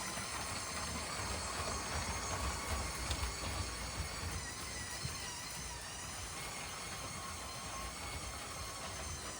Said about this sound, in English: I'm going to let the train run for a couple extra